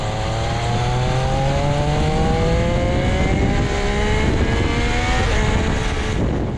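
A 2025 Triumph Speed Triple 1200 RS with an updated single-exit exhaust revs hard: loud, close engine whine climbing and sweeping through repeated rising pitch runs, sustained throughout with no talk.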